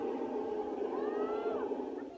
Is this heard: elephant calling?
yes